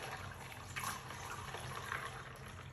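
Homemade lemonade poured into a plastic pitcher: a steady, close liquid splash and trickle running without a break, with no talking.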